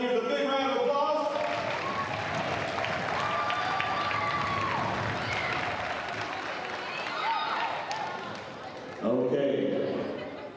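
A gymnasium crowd at a senior night volleyball game keeps up sustained applause and cheering for the seniors, with voices mixed in and a louder burst of cheering near the end.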